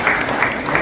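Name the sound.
audience applause at shop opening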